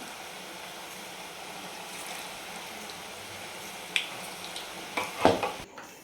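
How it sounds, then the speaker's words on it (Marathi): Bhaji fritters frying in hot oil in a kadhai, a steady low sizzle and bubbling throughout, with a few sharp clinks and stirring scrapes of a utensil near the end. "आता आपण पूर्ण भजी आता ह्या पद्धतीनं तळून घेणार आहे"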